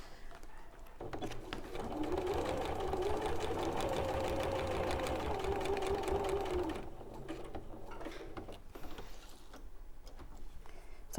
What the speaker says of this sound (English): So I'm just going to sew now across in the other direction on the horizontal lines.